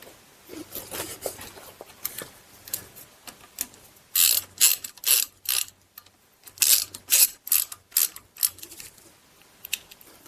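Ratchet tightening timing chain guide bolts on a GM 2.4 Ecotec engine, giving quick runs of sharp mechanical clicks in short bursts with brief pauses between strokes, heard close by and with no talk over it.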